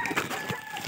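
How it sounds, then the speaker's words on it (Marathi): Chickens cluck and call briefly inside a semi-enclosed poultry shed, a short burst of close hen sounds. "कोंबड्या उडी मारत आहेत बाहेर येण्यासाठी."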